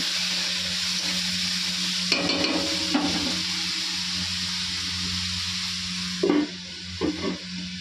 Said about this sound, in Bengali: তো আলুটা ভাজা বসিয়ে দিয়েছি।